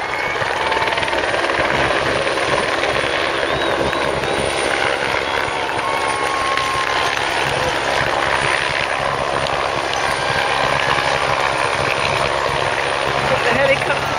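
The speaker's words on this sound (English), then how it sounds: "The helicopter just above us." Helicopter hovering overhead above Tour de France riders climbing Holme Moss, a steady rotor drone filling the scene as crowd voices and talk carry on underneath throughout.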